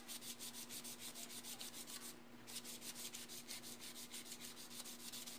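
Body filler on a Peugeot 504 is sanded by hand in fast, even back-and-forth rasping strokes, a close, steady scratchy rhythm with a brief pause midway and no talking.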